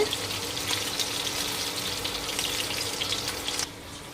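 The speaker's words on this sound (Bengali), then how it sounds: "এই তো এখানে আমার কড়া করে মাছ ভাজাটা প্রায় হয়ে গিয়েছে" Rui fish chunks frying crisply in a pan for a fish curry with potatoes, giving a steady, dense sizzle and crackle close by that continues evenly before dropping slightly quieter near the end, with no talking.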